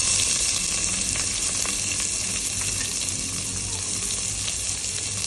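Onions drop into hot oil with whole garam masala and fenugreek, giving a loud, dense, steady sizzle that holds close and even throughout.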